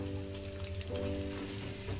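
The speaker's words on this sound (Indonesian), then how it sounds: "Kita tumis dulu." Shallots and garlic sauté in reused frying oil for Javanese-style cap jae, giving a steady close sizzle with soft crackling under a low background hum.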